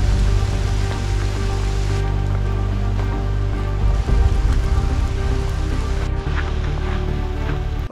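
Rain falls in a forest, a loud, close, steady hiss of drops with a deep rumbling undertone that shifts slightly midway, with no voices.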